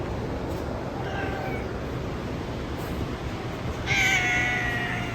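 A cat meows near a person while climbing over them, soft tonal calls around one second and again more strongly near the end, over a steady noisy background.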